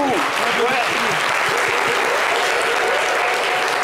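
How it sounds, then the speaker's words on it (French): A TV studio audience applauds guest Landry Agbadou: a host's voice is briefly heard at the start as loud, continuous clapping rises and fills the room, steady throughout. "Je vais vous demander d'applaudir à Landry Agbadou."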